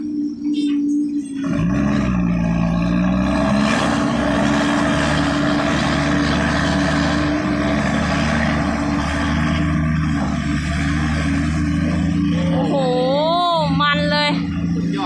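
A ten-wheel truck engine roaring loudly and continuously while belching heavy smoke, a deep sustained drone with rising and falling pitch. Voices are heard over the noise.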